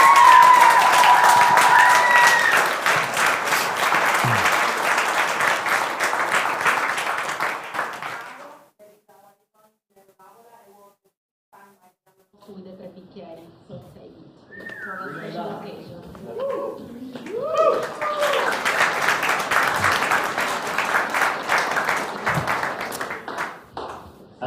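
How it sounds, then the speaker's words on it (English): An audience at a sommelier competition award ceremony applauds the 2022 junior champion with a long burst of clapping that fades to quiet voices, then swells into clapping again. "round of applause to the junior champion of 2022"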